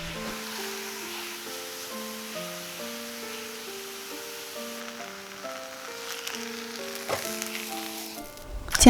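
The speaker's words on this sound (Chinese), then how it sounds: "大概煎到1分钟，起到泡之后翻个面，再煎个20秒就可以了。" A crepe batter round sizzles softly in a pan with a steady, faint hiss of frying, largely masked by melodic background music that plays throughout.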